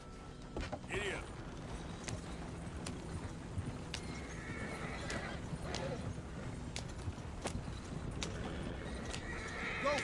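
Horse hooves clip-clop steadily with occasional whinnies and creaking tack in Red Dead Redemption 2, a continuous ride under scattered character talk and ambient game sound.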